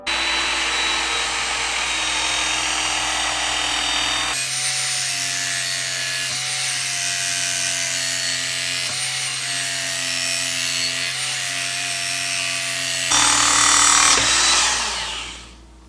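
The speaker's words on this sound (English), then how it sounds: "So I'm going to get down on this beveled edge, which you can see here, and get right to sharpening it." A garden hoe's beveled edge ground on a Work Sharp belt sharpener with a coarse belt, making a loud, steady abrasive rasping whir that shifts in pitch as the blade is repositioned and ends as the motor spins down.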